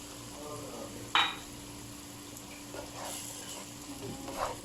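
Tomato paste fries with ginger and garlic in a pot for a desi chicken yakhni curry, giving a steady low sizzle with an occasional sharp utensil knock and faint stirring scrapes nearby.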